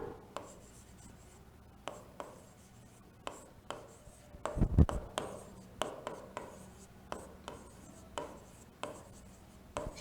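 Pen scratching on paper as notes are written by hand, short strokes and taps in an uneven rhythm, close and fairly quiet, with a brief louder rustle midway and no talking.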